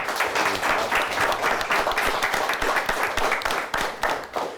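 Full studio applause for high-school quiz teams after a game-show episode, loud, continuous clapping from a crowd of hands that stays dense and energetic throughout with no voices on top.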